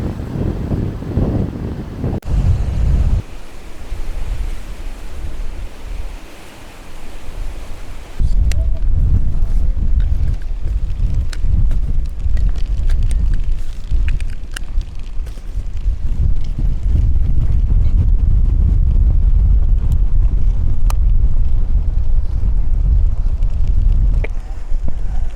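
Strong wind buffets the microphone outdoors by a harbour wall, a loud rumbling roar in gusts, with a brief lull before the blustery noise surges back and holds steady.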